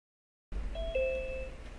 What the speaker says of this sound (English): There was the little chime that said that my other account has joined